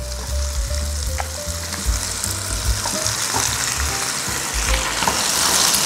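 Chicken feet are stirred and fried in a pan, giving a continuous crackling sizzle with the low scrape and clatter of stirring throughout.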